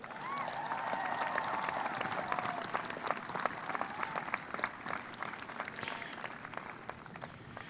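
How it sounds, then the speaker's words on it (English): Sustained applause from a large commencement crowd, dense steady clapping that fills the hall for several seconds with a few whoops rising above it. "I want to give your parents a big round of applause."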